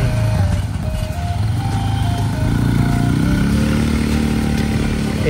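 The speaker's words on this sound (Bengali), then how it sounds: "এটিভি রাইড নিচ্ছে।" ATV being ridden around a go-kart track in Dhaka, its small engine droning steadily and loudly throughout with a slight rise in pitch, no talk heard.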